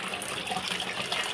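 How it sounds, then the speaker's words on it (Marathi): Tap water runs steadily into a sieve of sprouted wheat being rinsed clean, a continuous close, even gushing splash with no talk. "हे मी आता गाळून घेणार आहे आणि एकदा स्वच्छ पाण्याने धुवून घेणार आहे"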